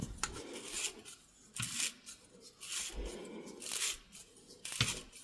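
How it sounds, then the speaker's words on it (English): Rough, crackling scraping as a sharp homemade auger gimlet twists into hard dry wood in several uneven bursts, close up with short gaps between turns. "You can hear that sharp edge cutting through all those fibers"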